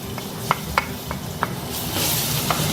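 Garlic frying in hot oil for a stir-fry, a soft steady sizzle with a few sharp spoon clicks against the pan, then the frying hiss grows louder and brighter near the end.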